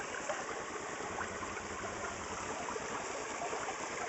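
Water runs steadily through a small gold-prospecting sluice in a soft, continuous rushing trickle with no other sounds.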